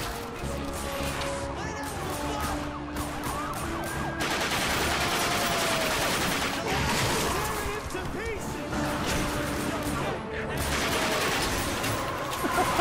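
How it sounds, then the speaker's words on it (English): Gunfire and crashing effects from the video game The Darkness 2 come in dense, continuous bursts layered with music and game noise throughout. "Am I getting shot at?"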